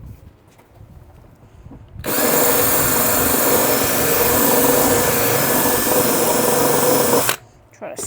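A power drill runs loud and continuous for about five seconds at close range while fixing a pig's water barrel, starting and stopping abruptly, with quiet background noise around it.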